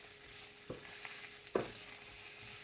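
Mushrooms sweating in a hot pan over higher-than-medium heat, with a low steady sizzle and two distinct scrapes of a utensil stirring against the pan.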